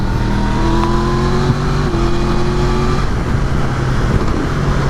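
A 2019 Yamaha MT-10 motorcycle with a 1000 cc engine accelerates hard on the road, its engine note climbing through the gears in loud, close sweeps over steady wind roar, with no voices.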